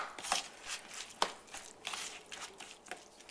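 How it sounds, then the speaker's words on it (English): Pineapple and raspberry preserves are stirred together in a bowl, giving wet, sticky squelches and soft taps in an irregular rhythm. The sounds are close and fairly quiet, with no one talking. "Now I'll mix it up really well."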